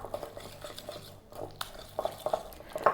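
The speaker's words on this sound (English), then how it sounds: "Then we're gonna whisk this up before adding our powdered sugar." Whisk clattering against a bowl as icing with maple extract and salt is mixed, quick rhythmic taps and scrapes, close and clear with no talk.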